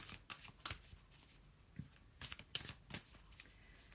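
Oracle cards, the mystical shaman deck, are shuffled by hand up close, a quiet run of soft riffling bursts and slaps in an irregular rhythm with no talk.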